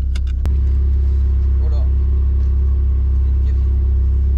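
Audi R8 Spyder sports car, yellow, with a steady low engine rumble throughout after a brief click near the start, and faint speech-like sounds over the drone.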